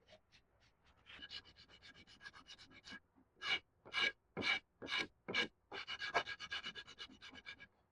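Hand sanding on the trailing edge of an AXIS carbon hydrofoil mast being re-cast: a series of short, rhythmic rasping strokes, quiet and close, that speed up into quicker back-and-forth rubbing.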